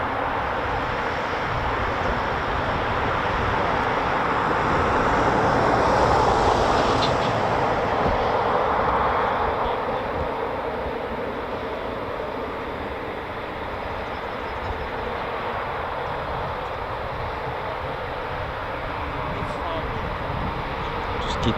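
Eurofighter Typhoon FGR4 jets at RAF Coningsby give off a steady, broad, distant jet roar that swells slightly near the middle and stays continuous throughout, with a voice briefly heard.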